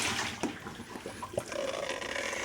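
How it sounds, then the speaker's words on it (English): Water rushes and gurgles as it fills up at a kitchen faucet being repaired for low pressure, with a valve not sealing completely; the flow is uneven, with a few sharp knocks and sputters, then a steadier filling tone. "As you can see, the water's filling up."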